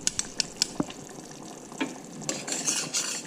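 Cornstarch is poured into a sauce and stirred, giving a run of light clinks of a utensil against the pot, then a soft, continuous swishing liquid stir.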